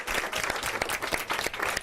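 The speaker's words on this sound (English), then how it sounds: "Let's give a round of applause to Principal Dockery" An audience at a Chicago public school event breaks into applause, a dense, continuous clatter of many hands clapping at moderate distance, fairly loud and sustained.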